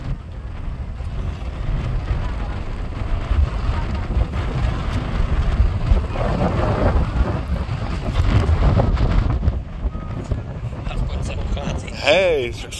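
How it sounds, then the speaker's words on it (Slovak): Strong wind buffets the microphone on the Most národnej jednoty bridge in Sátoraljaújhely, a loud continuous low rumble with gusty swells throughout, while people talk and a child sings over it. "Dobre fúka, joj, toto je príjemne."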